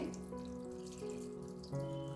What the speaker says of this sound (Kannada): ಇವಾಗ ನಾವು ನೀರನ್ನು ಸೇರಿಸ್ಕೊಳ್ತಾ ಇದ್ದೀವಿ